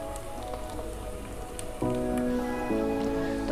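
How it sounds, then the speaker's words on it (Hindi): Sliced onions sizzle and crackle steadily in hot oil for egg biryani, a close, dense frying hiss that grows a little louder partway through, with no voices. "अब ये प्याज डाल देंगे। प्याज को हम हल्का सुनहरा होने तक फ्राई कर लेंगे।"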